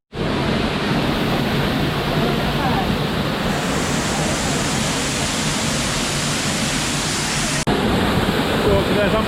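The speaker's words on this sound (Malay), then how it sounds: "So inilah waterfall yang kuat." A strong waterfall at Kemensah roars loud and close as a dense, constant rush of falling water, with a brief break in the sound near the end.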